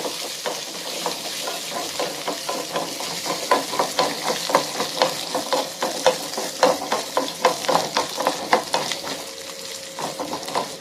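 Ginger and garlic frying in a pan for aval vadai, a loud close sizzle with repeated scraping stirs in a quickening rhythm, no voices.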